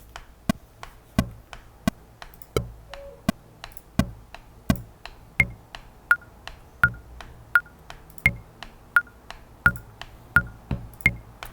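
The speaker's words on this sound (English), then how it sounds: "let me put a click track in here and just show you" A Pro Tools click track plays back as a crisp, steady metronome, sharp ticks evenly spaced about every 0.7 seconds, some accented with a higher pitched beep, loud and alone.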